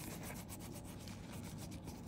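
Soft, steady rubbing of a wipe across a gel nail to degrease it during short-length gel nail extension work, a close, continuous dry scrubbing with no talk.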